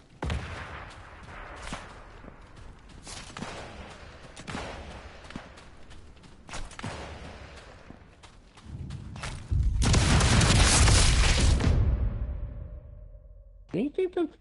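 Grenade explosions in the Sniper Elite 5 video game, scattered booms and gunfire cracks building to a long loud blast with rumble and debris, followed by a few sharp hits; voices talk over the action.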